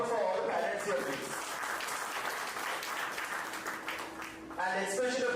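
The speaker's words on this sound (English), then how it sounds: "So can you have a big round of applause for all the parents here, please?" An auditorium audience at a PGDM graduation ceremony claps in a steady round of applause, with a speaker's voice over the clapping at the start and again at the end.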